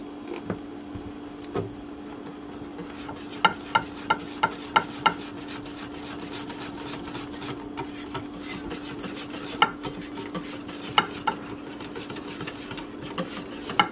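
Fish batter of eggs and 7Up is whisked in a bowl, producing faint, quick clicking taps in short bursts over a steady low hum, with no talk.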